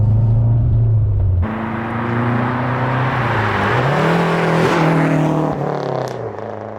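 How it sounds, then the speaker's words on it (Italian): Lancia Delta HF Integrale Evoluzione engine droning steadily and loud as the car drives along a road, the pitch dropping at a gear change and then climbing and shifting under acceleration, with no talking. "Ci stiamo dirigendo verso la strada del Prosecco con questa fantastica Lancia Delta integrale"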